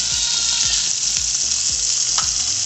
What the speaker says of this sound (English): I'm going to saute this garlic and tomato.